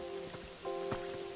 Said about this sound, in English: I might put a rain charm in the Wicked Wasteland